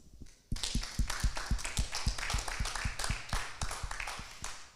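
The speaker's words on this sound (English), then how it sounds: "One more round of applause." Audience in an auditorium at a research expo applauding, a dense burst of clapping that starts abruptly and continues steadily without fading.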